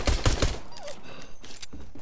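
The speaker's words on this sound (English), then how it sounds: "You just hear gunshots." A quick burst of gunfire in the video game Fortnite, several sharp shots crowded into the first half-second, then a quieter stretch of scattered game noise.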